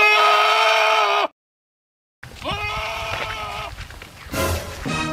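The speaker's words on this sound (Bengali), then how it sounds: "একটা ছাগল চিল্লাচ্ছে না?" A goat bleats loudly and close in a long wavering cry, falls silent briefly, then lets out further shorter bleats mixed with rustling noise.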